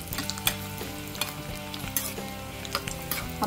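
Cashews and raisins fry in ghee for a yellow pumpkin halwa, giving a steady close sizzle with light stirring scrapes and occasional soft clinks, no voices over it.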